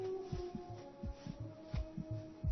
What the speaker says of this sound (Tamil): என்ன ஹார்ட் பீட் கேக்குது?